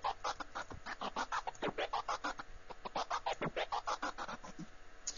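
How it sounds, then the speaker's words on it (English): Record scratch sound produced with a scratcher plugin in FL Studio, a run of rapid back-and-forth scratching strokes with sharp rhythmic bursts, moderately loud and alone. "we get a fairly standard sounding scratch sound"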